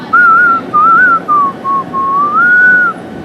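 A person whistles a clear, loud melodic tune in several short phrases, with a longer held note at the end, alone without talk.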